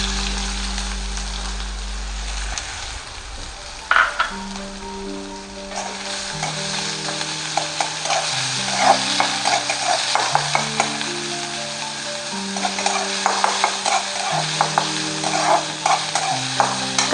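Green chilies sizzle and crackle steadily in hot oil for a home-cooked cabbage momo filling, with a loud frying hiss, occasional stirring clatter and a low hum at the start.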